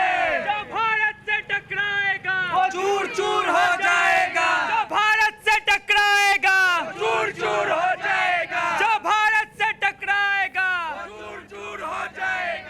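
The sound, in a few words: crowd chanting slogans at Vishwa Hindu Parishad celebration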